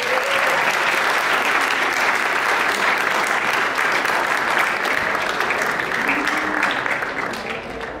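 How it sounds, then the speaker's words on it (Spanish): Sustained applause from a conference audience at a social media and content creation talk, a dense, steady wash of many hands clapping at once that holds strong for the full stretch and eases only slightly at the end. "a quien le damos un fuerte aplauso"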